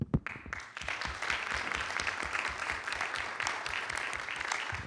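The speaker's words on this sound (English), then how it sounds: "Please join me in giving them a very large round of applause." An audience at a UN conference workshop on cybercrime applauds its panelists, with dense, steady clapping in a room that begins with one sharp clap and holds for about five seconds.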